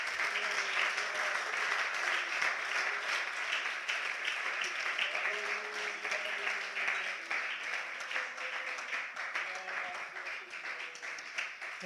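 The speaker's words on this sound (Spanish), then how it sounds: "denle un aplauso al Señor por eso" Congregation applause fills a church during a Spanish-language worship service, a steady, dense clapping that holds for about twelve seconds, with a voice carrying faintly underneath.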